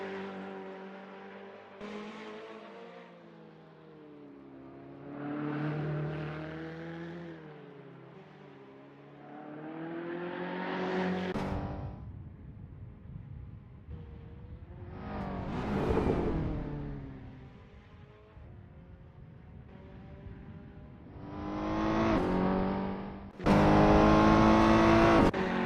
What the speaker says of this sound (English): Here's Dominic Fovard weaving through traffic.